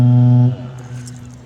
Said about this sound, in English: Your sound in the background is foghorn.